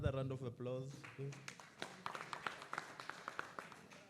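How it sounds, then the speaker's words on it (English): Audience clapping at a policy workshop session, with a voice speaking first and then a spell of scattered, moderately close handclaps that thin out toward the end. "Let's give them another round of applause, please."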